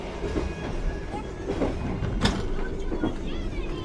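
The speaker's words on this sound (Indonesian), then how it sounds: "kereta Gajah Wong berbelok ke arah kanan ya, menuju Purwokerto Kroya" The KA Gajahwong Premium train runs on rails from Jakarta toward Yogyakarta, heard from inside a carriage as a continuous rumble with rhythmic clickety-clack of the wheels and a brief sharp squeal, with faint voices.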